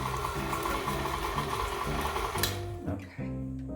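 A stand mixer creams dough for chocolate peanut butter cookies, a steady mechanical whir with a rhythmic beater churn, close and fairly loud, dipping near the end as the speed changes, with no talk over it.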